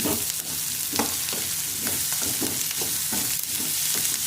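Drumsticks go into onions frying in oil for a Nellore-style brinjal and drumstick curry, making a steady loud sizzle with repeated stirring clanks throughout, close by and with no speech.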